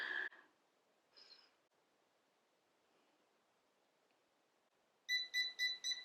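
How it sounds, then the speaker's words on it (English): A CHI Spin N Curl automatic hair curler gives four quick electronic ready beeps in a row near the end, after a stretch of quiet with a couple of faint rustles. "it'll beep when it's ready"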